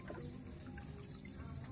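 A liquid cattle feed mixture being poured, a soft, quiet, continuous trickle and splash close by with no voices.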